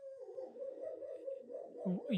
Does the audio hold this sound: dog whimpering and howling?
yes